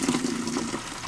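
Water pours from a water kiosk dispenser into a plastic bucket, a short, steady gushing fill heard up close and alone.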